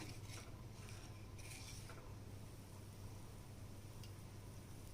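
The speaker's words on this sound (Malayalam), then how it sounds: "എന്നിട്ടൊന്ന് നന്നായി ഇളക്കി കൊടുക്കുക." A spoon stirs salted water in a pot for chicken soup kanji, giving a few soft scraping and clinking strokes over a faint steady hiss with no talk.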